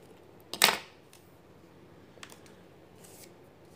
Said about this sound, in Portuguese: e corto o excesso de linha